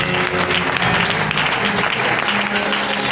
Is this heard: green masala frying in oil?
no